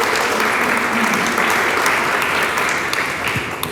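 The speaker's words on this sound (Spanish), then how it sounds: "Dele palmas al Señor." A church congregation breaks into loud, sustained applause during a Spanish-language sermon, a dense wash of clapping that fills the room and tapers slightly toward the end.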